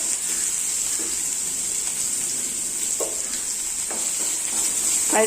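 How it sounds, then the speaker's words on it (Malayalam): Chopped onion and curry leaves sautéing in oil for Kerala sambar, a steady bright sizzle with occasional soft scraping stirs of a spoon. "ഒരു ചെറിയ സവാള ഇവിടെ ചെറുതായിട്ട് അരിഞ്ഞു വെച്ചിട്ടുണ്ട് അതുകൂടെ നമുക്ക് ഇട്ട് കൊടുത്ത് നന്നായിട്ടൊന്ന് വഴക്കിയെടുക്കാം"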